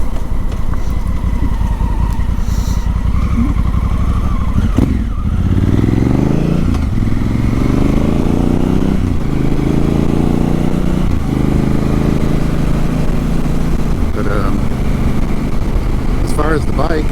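A 2017 Honda Africa Twin motorcycle engine hums continuously up close, with revs shifting up through the gears, while someone talks over it.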